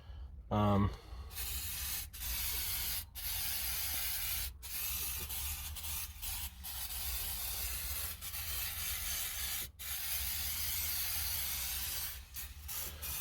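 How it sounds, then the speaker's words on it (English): Tire shine is sprayed as a lubricant, giving repeated short aerosol hisses broken by brief pauses, with a loud knock near the start and close, steady spray bursts throughout. "I'm using a bit of tire shine."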